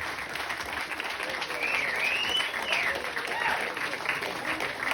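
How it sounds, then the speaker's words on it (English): Warm applause and cheering from wedding guests for the best man, a steady wash of clapping with a faint whistle or voice rising above it. "Big round of applause for our best man"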